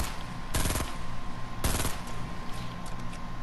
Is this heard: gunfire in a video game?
yes